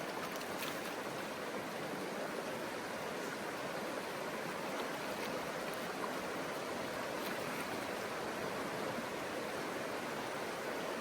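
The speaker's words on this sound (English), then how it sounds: "it's nice having a river" A river flows through a canyon in a continuous, even rushing hiss, close and steady for the whole stretch, with no talking heard.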